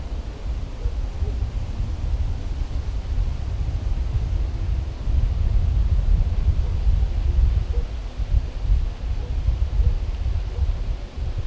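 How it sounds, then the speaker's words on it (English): Steady low rumbling wind buffets the microphone throughout during a Wisconsin deer hunt, a constant broadband roar with no voices. "But a little bit windy here."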